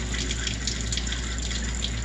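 Steady rushing of water from a faucet running continuously throughout, a constant broadband hiss with no talk.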